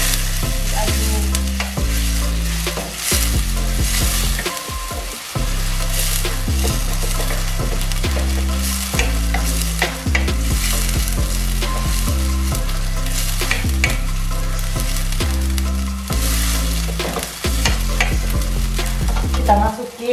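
Steady loud sizzling of blended chili frying in a pan, with a rhythmic scraping of stirring repeating every second or so, no voices.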